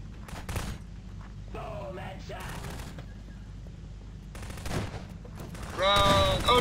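Gunfire and explosions from a Prop Hunt video game, with repeated loud bursts throughout and a heavier blast near the end, over constant background noise.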